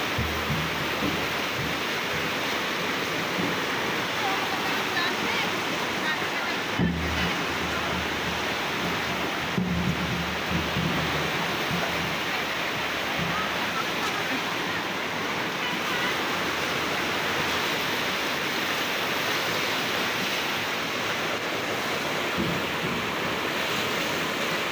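Rushing water of a river overflowing its banks during a flood in Bulacan, a continuous broad roar of fast-moving water, steady and fairly loud, with occasional low thumps and no talking.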